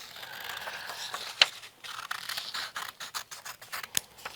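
Scissors snip steadily through yellow craft paper for a paper umbrella duck, a close, dry run of crisp cuts and scratchy rustles with a sharper snap now and then.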